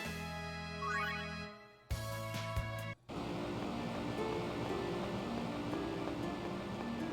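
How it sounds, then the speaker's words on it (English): Steady broadband rushing of a waterfall in Tales of Symphonia, starting after a brief musical passage and a cut, continuous and fairly loud. "Must be a waterfall."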